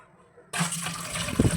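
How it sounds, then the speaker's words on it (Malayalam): Water poured off soaked cassava starch; after a brief quiet moment it begins as a sudden splashing gush, then keeps pouring steadily, with a few heavier splashes near the end. "അപ്പോൾ ആ വെള്ളം കളഞ്ഞിട്ട് കാണിച്ചു തരാം"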